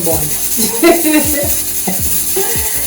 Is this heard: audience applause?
no